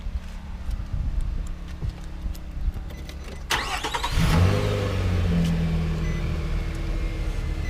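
A 2017 Nissan Frontier Pro-4X pickup engine cranks and starts, catches with a loud burst, then settles into a steady mid-pitched idle with a slight rev, heard close up with no talking.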